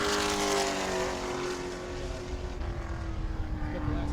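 A race car pulls off pit road during a short-track sportsman qualifying session at New Smyrna, its engine droning with a sustained tone that slowly sags in pitch, moderately loud and fairly near.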